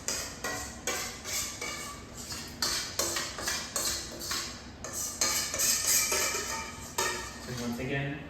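A spoon or utensil works sauce through a salad in a bowl, with steady, regular clinks and scrapes against the dish, close and continuous throughout, partly under a voice.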